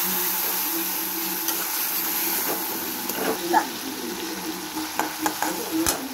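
Tadka dal masala is sautéed with a little water, giving a steady close sizzle with occasional spoon clinks and scraping strokes that grow busier toward the end.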